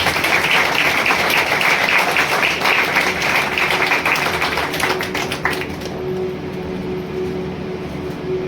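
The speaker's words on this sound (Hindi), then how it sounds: "इस वचन के लिए हम लोग जोर से ताली बजाते हैं।" A church congregation claps loudly together during a sermon, a dense, sustained burst of applause that thins out toward the end.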